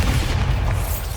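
A Bombarda spell explosion in Hogwarts Legacy: a deep, rumbling boom that swells immediately and decays slowly over about a second, heavy in the low end, with no talking.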